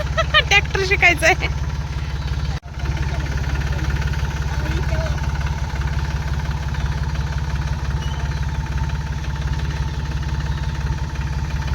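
A tractor engine runs steadily and close, holding a constant low drone throughout, with a brief dropout partway through and some faint higher noise near the start.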